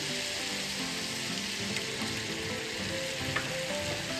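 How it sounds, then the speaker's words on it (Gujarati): Yogurt is stirred into tomato masala sizzling in hot oil, giving a steady, dense frying crackle with soft scraping from continuous stirring, close and alone without talk. "જ્યારે આપણે દહીં કે છાશ એડ કરીને ત્યારે આ રીતે સતત હલાવતા રહીશું"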